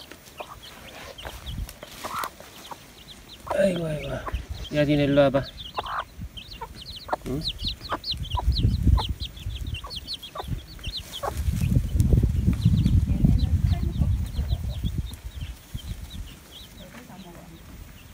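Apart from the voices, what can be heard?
chicks cheeping and clucking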